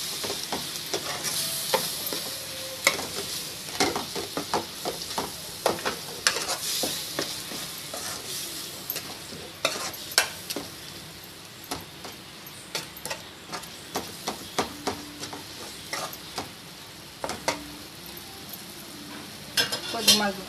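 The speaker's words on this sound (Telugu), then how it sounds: "కారం వేసుకొని కలుపుకోవాలి మొత్తం" Chili powder being stirred into melted jaggery in a pan, a steady run of spoon scrapes and light clinks with a soft sizzle beneath, close and moderately loud with no talk.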